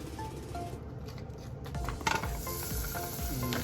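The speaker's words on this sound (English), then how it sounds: "now I'm gonna go ahead and melt some butter" Plant-based butter melting in a hot pan: a soft, steady sizzle close by, with a brief clatter midway.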